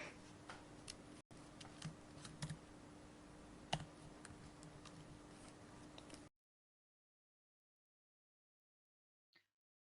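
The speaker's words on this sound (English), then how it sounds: "with clicking keyboards and aircon fans." Keys clatter on a computer keyboard in an office, a quiet run of uneven clicks over a faint steady hum of air-conditioning fans. The typing stops abruptly into silence, and one faint tap follows.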